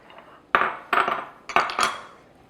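Brownie batter ingredients being mixed in a bowl, with four distinct clinks and scrapes of a utensil against the bowl spaced about half a second apart, close and fairly loud.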